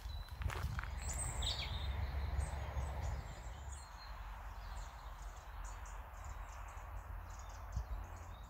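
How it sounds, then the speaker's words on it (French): Several birds chirp and call intermittently in a Brittany forest, faint high notes over a low steady rumble, with occasional footsteps or rustling nearby and no talk. "On entend beaucoup d'oiseaux, hein."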